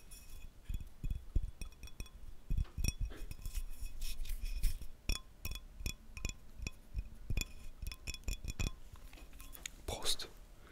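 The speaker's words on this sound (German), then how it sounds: "Naja, trinke ich aus der Flasche." A glass bottle clinks and knocks repeatedly during drinking at a meal with bratwurst, shopska salad and garlic bread, with close, crisp taps and small splashes scattered across the clip and soft voice or whispering in places.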